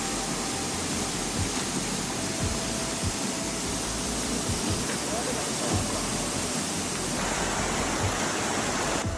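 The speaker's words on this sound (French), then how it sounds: "une conduite d'eau cassée s'est combinée à la canopée des arbres," Water sprays from a broken water pipe through a tree canopy in Ningbo, forming a fountain. A dense, continuous hiss and rush like a waterfall, loud and steady throughout, with faint background voices.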